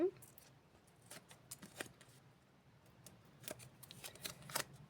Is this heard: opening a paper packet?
yes